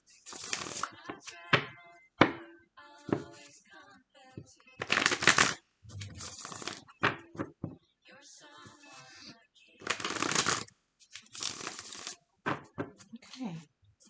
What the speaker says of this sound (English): I can shuffle a couple more.